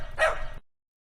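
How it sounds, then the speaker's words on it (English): A dog gives a single short bark, close and clear, that ends abruptly and is followed by silence. "Dog."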